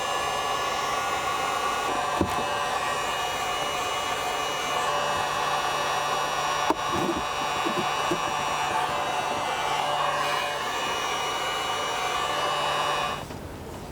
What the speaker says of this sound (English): heat gun for the win